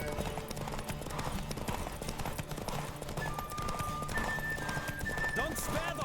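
Hooves clip-clop at a steady galloping pace for a horse in The Witcher 3, with a whinny near the end, under a dense bed of game music and effects.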